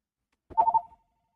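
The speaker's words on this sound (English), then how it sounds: "Who is calling me on my lap phone?" A phone rings once with a short, loud electronic ringtone burst in a quiet workshop room, then stops.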